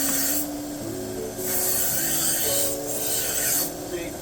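A knife being sharpened on a fresh Cubitron belt on a belt grinder: a continuous abrasive rasping hum, rising and falling in loudness across several passes of the blade.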